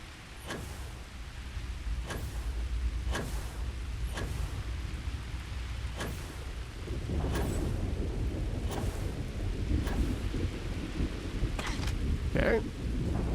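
Thunderstorm in the video game Starfield: steady rain hiss with repeated sharp thunder cracks at irregular intervals and a heavier rumbling stretch in the second half, loud and close.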